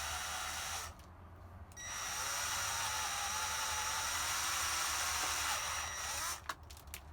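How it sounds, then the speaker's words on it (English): A power drill with a 1/8 inch bit whirs steadily at close range drilling out an old rivet, briefly easing off twice before running on, then stopping with a few clicks at the end. "we're gonna take the 1/8 inch drill bit and we're just gonna drill maybe an 1/8 of an inch in"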